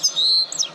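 A songbird in Istanbul gives a quick series of bright, high chirps and a short trilled note, close and clear over near silence.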